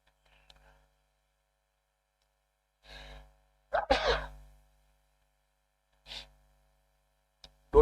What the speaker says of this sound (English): Don't worry about my sneezing.